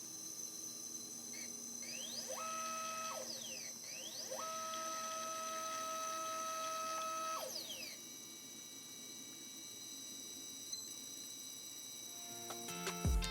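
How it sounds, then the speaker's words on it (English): A GVM-2D wireless motorized carbon fiber camera slider sits at rest, giving off a faint constant staticky hiss with steady high whine tones and a few gliding electronic tones, quiet and close, ending in brief clicks. "So this is the sound of the slider as it sits normally."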